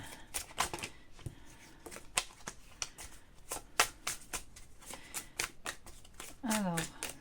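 Tarot cards being shuffled and handled in a series of sharp riffling flicks and soft slaps, close and fairly quiet, with a person talking in between.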